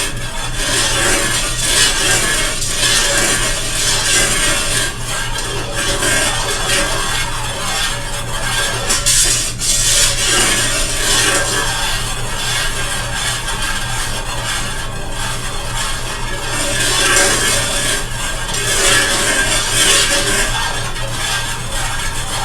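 Fragrance oil is stirred slowly into melted C3 soy wax, a steady scraping, rubbing swish of a utensil against the container that runs continuously and fairly loud up close.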